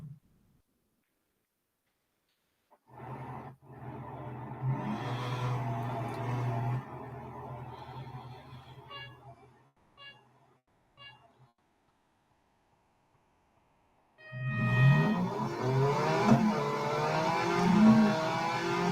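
Racing car engines in a Real Racing 3 drag race rev and roar in two bursts, a sustained mid-pitched engine drone with gear-shift cuts, a quiet gap, then a louder surge of revving at the end.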